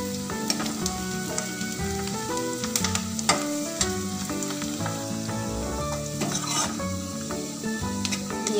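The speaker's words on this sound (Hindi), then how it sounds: "अब हम इसको थोड़ा सा पकाएंगे, ज़्यादा नहीं, बस हल्का पिंक कलर होने तक" Bread Manchurian pieces fry in a pan with a steady loud sizzle, cooking briefly until lightly pink, while occasional utensil scrapes and stirring clatter cut through the hiss.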